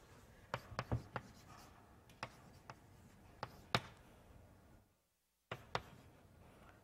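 Chalk taps and scrapes across a board during a university math lecture on Apollonian circle packings, sharp irregular strokes in a roomy hall, pausing briefly into silence before a few more marks, with no talking.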